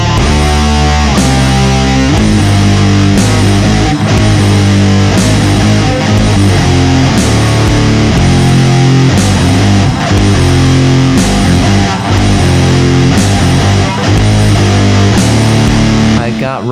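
Recorded rock guitar riff with a distorted, effects-heavy tone, looping steadily for over sixteen seconds with sharp regular accents, loud and full, no talking over it.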